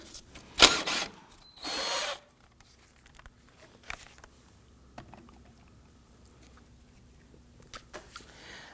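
Two short bursts of a power tool buzzing close by as it loosens a 16 mm nut on a 2008-2011 Ford Focus front wheel hub, then quieter scattered clicks and taps of metal work, with no talking.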